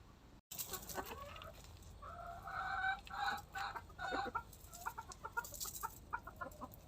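Silkie chickens cluck in a busy, close-up flurry of short calls, with bursts of overlapping clucks and scratching noises around them.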